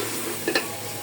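Ground spices sizzle steadily in a pot for a potato and chicken curry, with a couple of quick stirring scrapes near the middle; fairly quiet, no talk.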